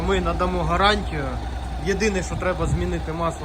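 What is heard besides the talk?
No everyday noises stand out.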